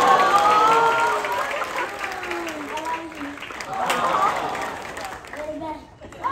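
A cruise ship theater audience cheers and applauds a contestant on stage, with sustained clapping and crowd noise that swells, fades and swells again while voices carry over it.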